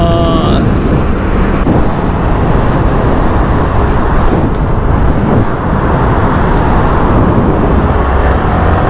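A compact supercar drives and accelerates on the road ahead, giving a loud continuous engine and road roar with a brief rising whine at the start.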